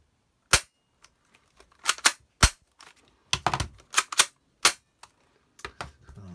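An Academy Desert Eagle .50 gold airsoft BB pistol, an adult spring-powered model, fires about a dozen sharp, close snapping shots at irregular intervals, with brief clacks between them and near silence around them.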